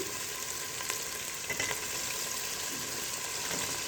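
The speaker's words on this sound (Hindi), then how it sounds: "अब इन्हें हम मसाले के साथ कुछ देर के लिए भून लेते हैं" Thick boiled potato pieces frying with masala for an egg and potato curry, a continuous even sizzle with faint occasional stirring scrapes, fairly quiet and steady throughout, with no talking.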